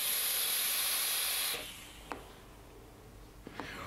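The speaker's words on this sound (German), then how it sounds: "es kommt nicht wenig Dampf raus, ich dampfe das Ding bei 90 Watt" A Squape X rebuildable dripper vaped at 90 watts gives a strong, steady airy hiss for about a second and a half, then drops to a softer breathy rush with a few light clicks.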